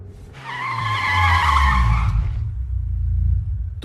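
A car skids to a stop, its tyres squealing in one loud, sustained screech that lasts about two seconds over a low engine rumble, which carries on alone once the squeal ends.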